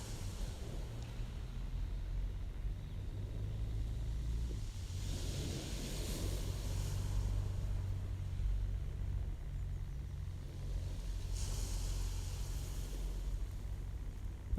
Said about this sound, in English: I can hear the traffic beginning up on the road.